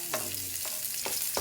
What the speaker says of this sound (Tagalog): Halo-haloin ulit natin